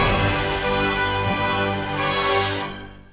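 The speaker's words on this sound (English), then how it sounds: "I wanted it to just have high strings and a trumpet melody." Orchestral build-up carried by sustained high strings under a trumpet melody, in a grand film-score style, loud and dense throughout before fading near the end.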